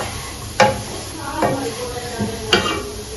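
Black-eyed peas being mixed with chili powder for a babbarla fry: three or four distinct scraping and clattering strokes spaced about a second apart over a soft sizzling background.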